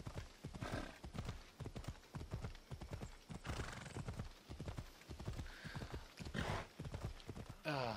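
Horse hooves clip-clop steadily and loudly in Assassin's Creed Odyssey, a continuous galloping rhythm with a brief whinny and nearby game voices.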